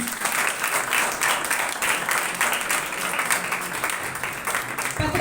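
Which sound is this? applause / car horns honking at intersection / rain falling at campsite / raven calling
applause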